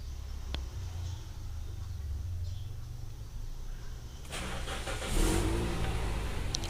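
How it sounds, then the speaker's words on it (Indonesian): A Toyota Corolla Altis engine cranks and fires after a low idle rumble, its start marked by a sudden louder rush of engine noise that settles into a steady, close running hum. "ini coba saya kontak on dulu, sekalian dihidupkan mesinnya ya"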